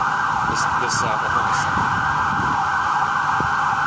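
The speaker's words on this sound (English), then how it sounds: "You can hear that siren" A siren wails steadily in the distance over constant traffic noise, with a few faint voices and knocks underneath.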